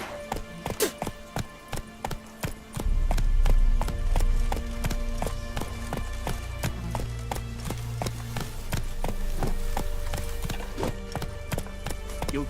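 Roach the horse galloping in The Witcher 3; brisk hoof clip-clops, sparse at first, then a fast continuous rhythmic gallop under a heavier rumble, fairly close and loud.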